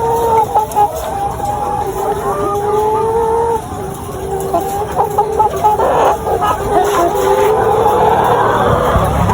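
Laying hens in a coop cluck and squawk close by, with repeated overlapping calls that rise and fall over several seconds, some louder bursts toward the end.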